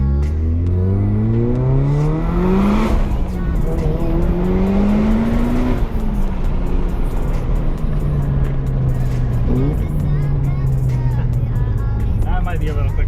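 A 300 hp Mazda Miata drives and accelerates, its engine note rising through the gears with shift drops between them. The engine is loud and close from inside the cabin, and people talk over the engine noise.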